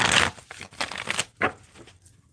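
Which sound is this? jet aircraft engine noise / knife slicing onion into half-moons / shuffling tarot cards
shuffling tarot cards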